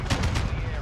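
Gunfire in Call of Duty: Modern Warfare, a rapid burst of several close, loud shots over roughly a second, with a voice talking over the burst.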